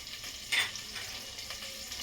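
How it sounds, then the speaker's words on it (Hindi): Mustard seeds and green chillies sizzling in hot oil and butter in a pressure cooker for pav bhaji, a soft steady hiss with one brief louder crackle near the start. "तेल और बटर अच्छी तरह गर्म हो चुका है। सरसों के दाने, हरी मिर्च"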